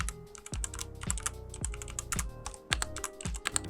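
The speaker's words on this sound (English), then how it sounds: "I'll put some ASMR of me typing." Rapid, crisp key clacks from a mechanical keyboard, close up and continuous, with deep thocky bottom-outs and no talking.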